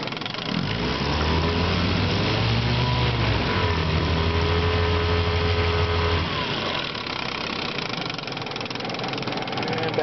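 A 1967 Johnson 6 hp outboard motor runs in reverse, its close, buzzing drone dipping and rising in pitch for several seconds before settling to a steadier rattle, with a voice speaking over it.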